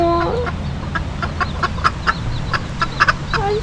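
Chickens and baby chicks cluck and peep up close at a farm spot in Costa Rica, with short repeated calls scattered over a steady outdoor background.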